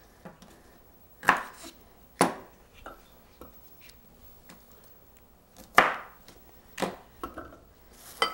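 A knife trims the ends off a celery stalk on a cutting board, making a handful of sharp, separate chops spaced irregularly with quiet gaps between them.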